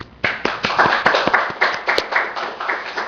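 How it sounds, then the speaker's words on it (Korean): A church congregation applauds with steady, rhythmic clapping filling the room, loud and sustained throughout. "격려와 감사의 박수 한번 드리십시다"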